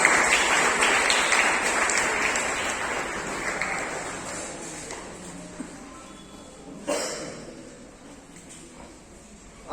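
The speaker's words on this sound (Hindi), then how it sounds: "बच्चों इनका तालियों से स्वागत कीजिए" Schoolchildren clap to welcome a prize winner at a school prize distribution, the applause loudest at first and then thinning and fading. Near its end there is a brief knock and a rustle.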